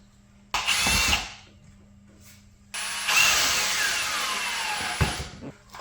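A power drill drives the final screws into a BMW E30 sport seat during reupholstery, two loud whirring bursts of about half a second and two and a half seconds separated by a short pause.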